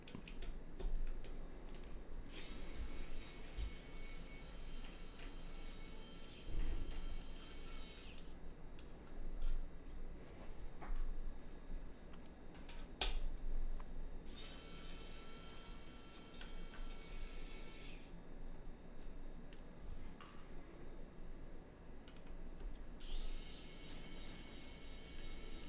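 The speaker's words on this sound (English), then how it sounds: "It's so annoying to get these screws out." Small screws are worked out of a mechanical keyboard case, giving faint, close clicking and ratcheting from a screwdriver that comes in intermittent bursts over a quiet background with no voices.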